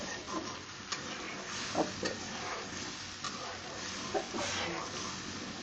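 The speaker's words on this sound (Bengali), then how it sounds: "দেওয়ার পরে এটাকে ভালো করে কষিয়ে নিয়ে 5 মিনিট লাগবে এটাকে কষাতে।" Chicken roast masala with lemon juice being stirred and sautéed in a pan: a soft continuous sizzle with a few scraping stirs of a utensil, fairly quiet and steady.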